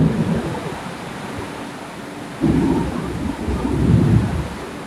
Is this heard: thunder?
yes